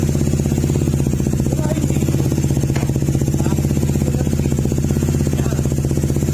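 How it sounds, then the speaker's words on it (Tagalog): A Honda ADV160 scooter engine, fitted with bolt-on parts and a remapped ECU, idles steadily up close with an even, rapid mechanical pulse and a light clatter, no talk over it. "Yan, tahimik yung makina niya."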